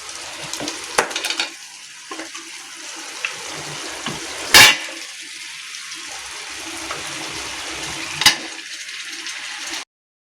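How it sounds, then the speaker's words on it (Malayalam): Chicken cooks in a pan with a continuous close sizzle, broken by occasional scrapes and clinks of stirring and a couple of sharp metallic knocks; no one speaks. "ചിക്കൻ ഇട്ട് കൊടുക്കാം."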